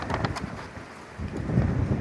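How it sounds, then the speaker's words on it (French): Gusting wind buffets the microphone with a rough, uneven rush of noise while riding toward a ferry in Japan, swelling louder toward the end with no voices. "il y a du vent"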